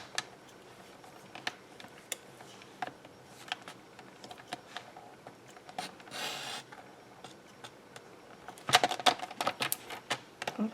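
Paper for a swing fold card being cut, heard as quiet scattered clicks and scrapes with a brief rasping slide midway and a cluster of sharper close snips near the end.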